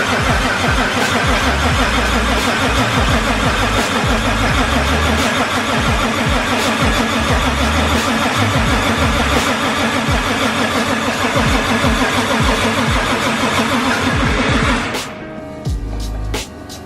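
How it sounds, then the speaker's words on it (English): A Nissan RB engine freshly installed in a 180SX cranks for its first start, a loud sustained churning that runs for about fifteen seconds before abruptly cutting out. "Everything hooked back up and ready for the first crank."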